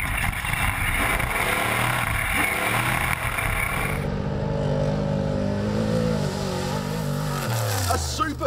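A trophy truck tears through the 2013 Goondiwindi 400 off-road race, its engine roaring loudly and continuously. The pitch shifts as it passes and fades, and deep rumbling swells toward the end.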